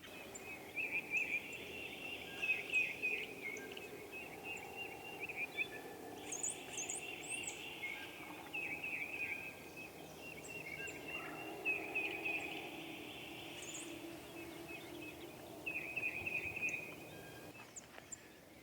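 Birds call and chirp near the water in morning sunshine: repeated bright, short chirping phrases recur every few seconds at moderate distance over a soft, steady outdoor background.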